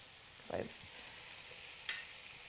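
Ingredients with salt and garlic browning in a pan give a steady, low sizzle throughout, with a couple of brief stirring scrapes.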